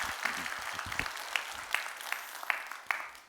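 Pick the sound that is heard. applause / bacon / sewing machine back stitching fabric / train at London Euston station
applause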